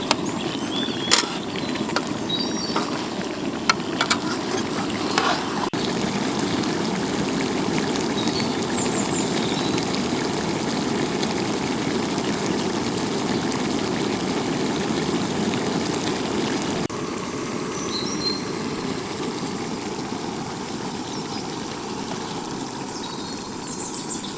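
Pallipalayam chicken simmers in a pan as its water boils off: a steady, close bubbling hiss with soft crackles that runs continuously, with no voices.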